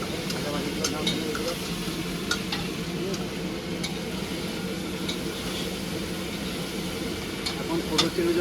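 Food frying in a pan in a village kitchen where prawns, crab and potatoes are being fried, a steady dense sizzle with faint scattered clinks throughout.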